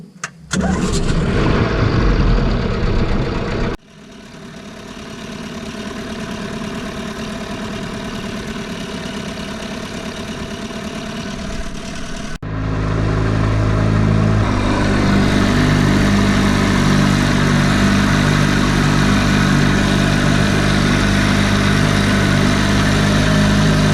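A 1953 Johnson QD-14 outboard motor idles with a steady, close mechanical drone that shifts in pitch and grows fuller as the low idle knob is adjusted.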